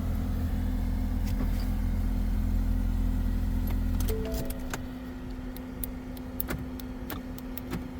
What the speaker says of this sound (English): Car starts, no theft light